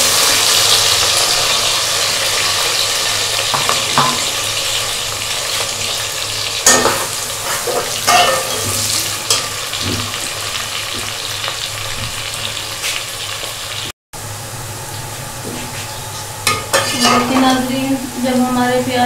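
Onions sizzle and fry steadily in a pan of cooking oil for a stuffed karela and daal chana dish, with occasional stirring scrapes and clinks of a utensil against the pot.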